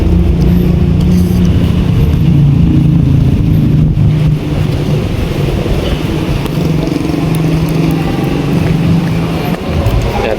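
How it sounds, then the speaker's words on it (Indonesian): Cars rumble steadily past a harbour-side maritime museum in hot weather, a continuous loud traffic drone with engine hum, no talk heard. "di sini juga ada mobil wisata warawiri lah"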